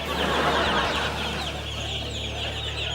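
Cartoon chicks cheeping and clucking in a busy, continuous flurry of high chirps, loud and close throughout, with a low hum underneath.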